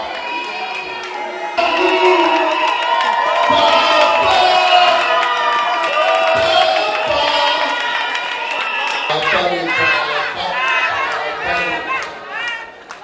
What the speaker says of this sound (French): Fils de Monsieur Mwembo Moma Lisangui, que je prie d'applaudir très fort.